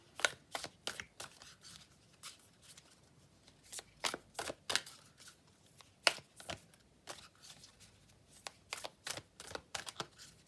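A deck of oracle cards is shuffled by hand: quick crisp riffles and flicks in irregular bursts, close and fairly quiet, with no talking.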